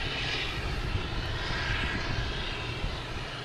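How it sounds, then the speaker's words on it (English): A Cape Air propeller plane takes off at Boston Logan Airport, its engine a broad, steady, loud roar that holds without pause, with no talk over it. "Another Cape Air taking off, heading to Martha's Vineyard."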